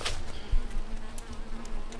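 Honeybees buzz around a hornet trap in a steady, close drone, with a few faint knocks and clicks mixed in.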